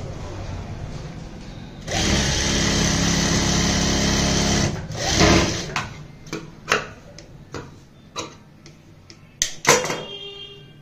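An electric sewing machine stitches the folded edge of a blouse, running steadily for about three seconds, then giving a string of separate sharp clicks and short bursts as the work is adjusted.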